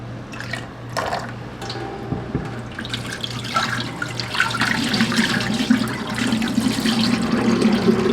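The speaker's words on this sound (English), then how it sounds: "I never thought about cleaning off rice." Tap water runs steadily into a sink as rice is rinsed for a crockpot pot roast, a continuous splashing flow that grows fuller and louder over time, with no talking.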